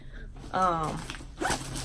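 Short raspy zips from the zipper on a Dooney & Bourke handbag pocket, heard close up in two quick bursts with a voice nearby.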